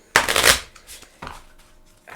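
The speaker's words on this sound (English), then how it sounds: "These are fairly well shuffled." A deck of playing cards being shuffled by hand, heard as a few quick riffling bursts with short pauses between them, close up and fairly quiet.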